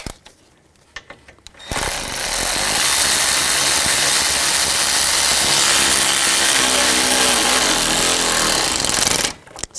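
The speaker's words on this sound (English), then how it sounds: "And I'll tighten these down." A power tool drives screws on the AC condenser of a 2000–2006 BMW X5 3.0L L6, starting after a couple of quiet seconds and then buzzing loudly and continuously for about eight seconds before stopping.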